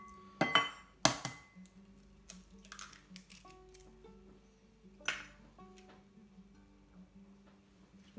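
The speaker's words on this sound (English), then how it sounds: "Just going to separate the eggs." Eggs being separated into a bowl while making griddle scones in a quiet kitchen: a few close, sharp taps and clinks of shell on glass, followed by softer ticks and small drips, with no talking.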